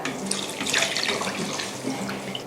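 Water poured from a tap or jug onto granulated sugar in a pot to start a syrup for Thai golden threads dessert, a short close splashing and trickling stream that ends with a brief knock.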